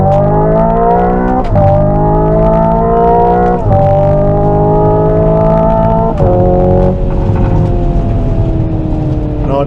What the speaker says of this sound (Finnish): Painetaan kaasua ja jarru yhtään. Ääni muuttuu heti.